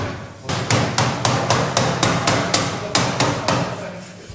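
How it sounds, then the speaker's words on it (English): Hammer blows strike heated brass being worked into a trumpet bell, about a dozen sharp ringing metallic hits in a steady, even rhythm, close and loud with no talk. "then come back and hammer again"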